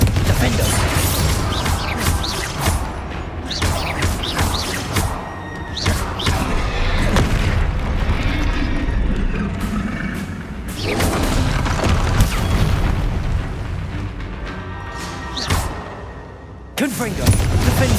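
Repeated Confringo fire-spell explosions in the video game Hogwarts Legacy, a dense run of booming, crashing blasts with thuds and game clatter that keeps up almost without a break, loud and near, over steady background noise.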